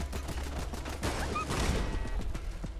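Damaged turret opening fire in Fallout London, a rapid stream of gunshots cracking through dense ongoing game noise, with steady low rumble beneath and a couple of brief tonal electronic chirps partway through.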